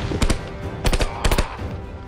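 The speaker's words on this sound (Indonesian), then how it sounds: "Asuman menembak dan Van Hala melempar granat mengikuti teknik yang pernah diajarkan Roka." Gunfire in a war film battle scene: several short, loud bursts of shots in quick succession, close and sharp, with no speech over them.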